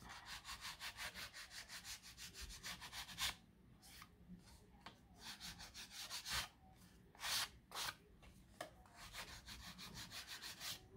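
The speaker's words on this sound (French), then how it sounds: "Je vais venir limer les bords." A hand file rasps along the edges of a Polaroid-style scrapbooking card in rhythmic back-and-forth strokes, close and quiet, broken by brief pauses and a few louder scrapes.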